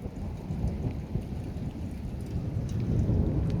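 A thunderstorm with steady rain and deep rolling thunder: a constant wash of rainfall with a low rumble that swells toward the end, heard at a moderate level with no voices.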